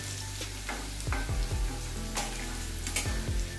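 Cumin seeds and ginger frying in hot oil make a dense, even sizzle with a low hum beneath it, and a few sharp knocks and scrapes from a utensil cut through it; no voices.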